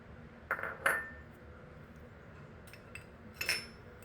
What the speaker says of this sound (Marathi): आता या मिक्सरच्या भांड्यामध्ये या एका पापलेटमध्ये भरण्यासाठी हे मी वाटीभर जे खोबरं घेतलं आहे ते खोबरं या मिक्सरच्या भांड्यात घालते